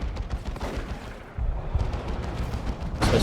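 Heavy lascannon fire in Dawn of War 2, a 3v3 Warhammer 40,000 real-time strategy battle: dense booming blasts and crackling impacts roll on continuously, loud and close, with a sharp bright burst near the end.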